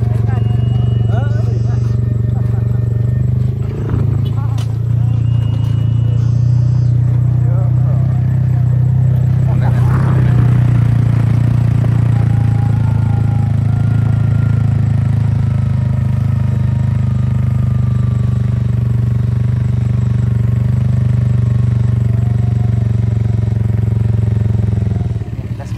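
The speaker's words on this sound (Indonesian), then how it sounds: "Bareng nih Vespa sang legend." A Vespa scooter rolls downhill on a road, its engine giving a steady low hum with a little clatter throughout, while someone talks over it.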